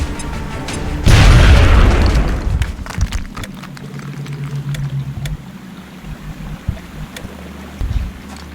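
A grenade explodes in XCOM: Enemy Unknown, a loud close boom that erupts suddenly and rolls into scattered debris clatter and rumble before fading.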